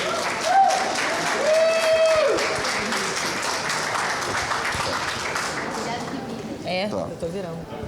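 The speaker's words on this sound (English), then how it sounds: "Give Oskar a big round of applause." Audience applause at a sustainability-focused talk event, a broad crowd clapping that swells early and continues steadily, with a few brief tonal sounds and some background voices mixed in.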